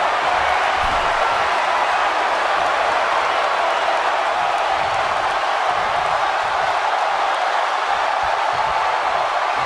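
A huge stadium crowd of over 77,000 at a wrestling event keeps up a steady wash of cheering and noise, broad and continuous throughout, with no distinct peaks.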